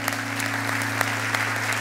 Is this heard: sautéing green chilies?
no